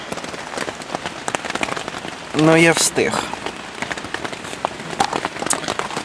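Steady rain falls at night on an old Soviet-era tent covered with a plastic sheet, a dense patter of drops throughout, and someone speaks briefly over it midway.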